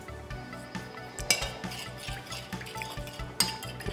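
Olive oil, lemon juice and salt being stirred into a salad dressing, a utensil clinking and scraping against a bowl in a steady rhythm, with a couple of sharper knocks, close and fairly quiet.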